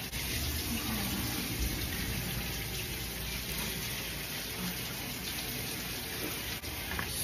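Shower water running steadily during a hair wash, a soft, even hiss of spray that stays faint and constant with no voices.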